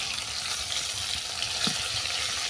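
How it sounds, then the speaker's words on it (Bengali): Fish heads frying in hot oil, giving a soft, continuous sizzle and hiss at low level that runs steadily throughout without talk. "দেখো এক পিঠ মুড়োগুলো ভাজা হয়ে গেছে, অপর পিঠ উল্টে দিচ্ছি।"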